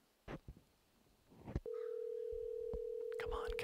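A telephone gives off a steady, unbroken electronic tone for an incoming call, starting partway through and holding to the end, after a few faint knocks and brief voices earlier.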